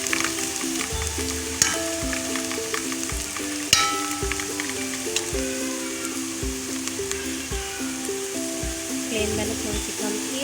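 Onions frying with garam masala in a pan for beef yakhni pulao, a constant close sizzle broken by repeated stirring scrapes and occasional knocks, with a low hum running underneath.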